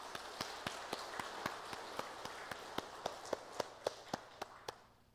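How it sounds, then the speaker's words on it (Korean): Hands clap in a steady, evenly paced rhythm for a church choir at an Easter Sunday service, each clap distinct and fairly faint, growing slightly stronger before fading out. "우리 할렐루야 찬양대에 우리 감사의 박수"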